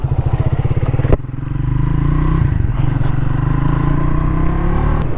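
A Triumph Speed 400 motorcycle runs close by, its exhaust thumping in a rapid, even idle pulse before a brief clunk, then settling into a steady, loud, throbbing note with slight rises in revs, with no talking.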